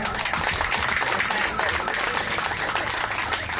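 Steady crowd clapping at a car show fills the whole stretch, dense and continuous at a constant level, with some voices mixed in beneath it.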